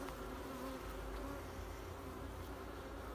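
Dense, steady buzzing of many honey bees swarms around an open hive with supers of honey, close and continuous, with no voices.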